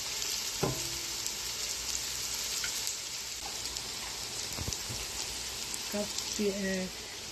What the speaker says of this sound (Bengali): আমি ভাজতে দিয়ে দিচ্ছি পেঁয়াজগুলো ভাজা হবে